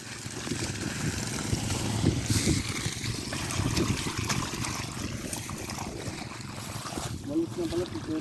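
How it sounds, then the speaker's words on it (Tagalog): Irrigation water pours steadily out onto a farm field in Ilocos, a continuous broadband gushing and splashing that holds fairly even throughout, with voices talking over it. "Oh, ito na yung tubig."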